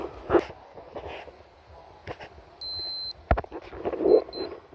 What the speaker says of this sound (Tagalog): Nag-alarm na.